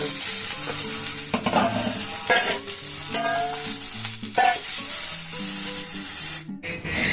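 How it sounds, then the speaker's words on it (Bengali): Loud, close frying sizzle of pointed gourd in a pan with a spatula scraping and stirring, a steady hiss broken by scrapes, with soft music underneath. "পটলগুলো দেখুন খুব সুন্দর করে ভাজা হয়ে গেছে"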